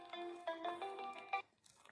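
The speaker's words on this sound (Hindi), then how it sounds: "इसका फोन आ रहा है।" A mobile phone rings with a short, repeating melodic ringtone, quiet and a little distant, before cutting off into faint background noise.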